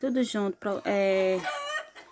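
Several hens cluck and squawk loudly near the nest early in the morning, a series of rising, drawn-out calls in quick succession, with a brief word spoken under the noise.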